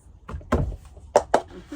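Cup song rhythm played slowly on a table: a few separate knocks and claps in an uneven sequence, close and sharp with short gaps between them.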